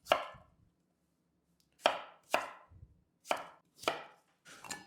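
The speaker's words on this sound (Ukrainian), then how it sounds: "Картопельку я нарізаю також кубиком, але таким трішки більшеньким." A knife thunks sharply through firm potatoes onto a cutting board, dicing them into cubes in short separate cuts spaced about a second apart with quiet gaps between them.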